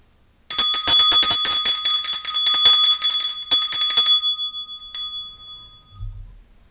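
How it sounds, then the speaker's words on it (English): A small hand bell rung to clear energy before a tarot reading: a rapid run of bright, close metallic rings, a second flurry, then one last strike that fades out into silence. "I'll start by clearing the energy with my bell."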